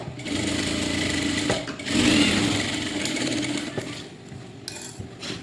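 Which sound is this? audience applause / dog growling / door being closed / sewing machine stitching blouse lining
sewing machine stitching blouse lining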